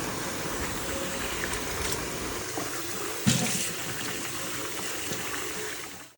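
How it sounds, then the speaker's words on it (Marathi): Raw chicken rinsed under running water in a kitchen sink, a steady close tap stream splashing over the meat with one brief knock midway before it fades out. "आता आपण हे चिकन चांगलं वॉश करून घेऊ 2-3 पाण्याने"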